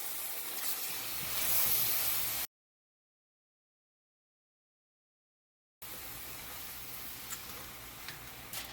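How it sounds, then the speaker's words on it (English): Shrimp searing in a hot pan for Jamaican peppered shrimp makes a steady, close hiss and sizzle with faint ticks. The sizzle swells briefly, then breaks off into a few seconds of silence before resuming. "Let the shrimp sear again, and then we'll turn one last time"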